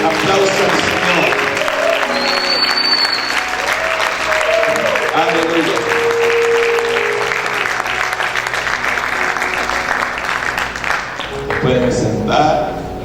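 A congregation at a church fasting service applauds loudly and continuously for many seconds, with a voice calling out over the clapping and background music.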